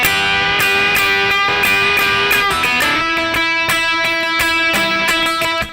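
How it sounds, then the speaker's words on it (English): Electric guitar strums full chords through a solo passage in a steady down-and-up rhythm, loud and close, with sharp attacks on each stroke and no talking. "This is kind of like a chord strummy bit of the solo"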